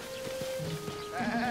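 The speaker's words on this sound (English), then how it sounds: "Goats!" Goats in Zelda: Tears of the Kingdom let out a close, wavering bleat, followed by a second overlapping bleat from another animal, with a faint background game hum.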